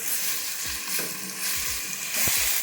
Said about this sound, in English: we cook only until we see the onion get translucent